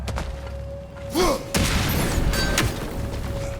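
A heavy boom from a bomb blast in the game God of War Ragnarok, set in Alfheim, thuds out sharply mid-clip over a steady hum and ambient rumble, with a second fainter impact shortly after.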